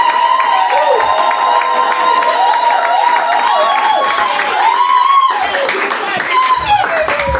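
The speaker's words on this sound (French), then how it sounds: "Est-ce que nous pouvons acclamer pour ce Dieu? Acclame" Congregation at a church worship and celebration service cheers, claps and shouts loudly together, a sustained dense roar of voices and applause that continues throughout, swelling again near the end.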